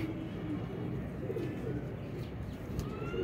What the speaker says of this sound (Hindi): ये कबूतर है दोस्तों माशाल्लाह।